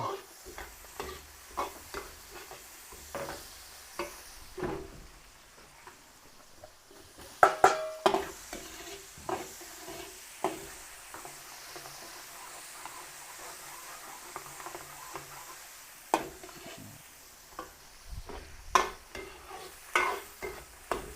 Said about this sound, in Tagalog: Sibuyas. Sabay po natin yung chorizo de Bilbao.